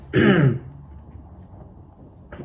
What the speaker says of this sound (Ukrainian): Ой, уже кашель почався.